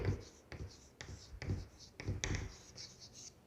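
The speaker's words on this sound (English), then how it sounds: "So I will write here" Chalk or marker scratches across a classroom board in short, rhythmic strokes, several quick taps and scrapes close by during a science lesson on winnowing.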